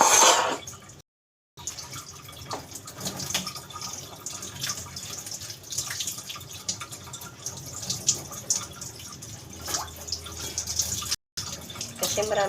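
Spareribs are rinsed one by one under a running tap, a steady splash and trickle of water with intermittent drips and handling sounds, close by, as a person talks over it with brief pauses.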